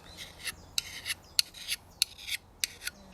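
A fine slipstone rubs in quick, rhythmic strokes against the inside of a woodcarving gouge, giving about eight crisp, close rasping scrapes, each ending in a small click, over a faint, quiet background.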